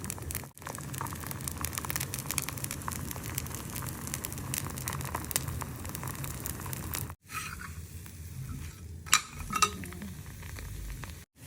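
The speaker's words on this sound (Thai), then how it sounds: "ใส่แผ่นโรตีลงไปค่ะ ละลายละลายแล้วนะคะทุกคน" A roti sheet fries in a pan as a steady, close sizzle runs almost without a break, interrupted by two short gaps and a few sharper crackles near the end.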